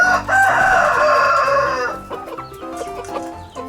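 A white Aseel rooster crows loudly and close by in one long call, followed by softer, scattered clucking.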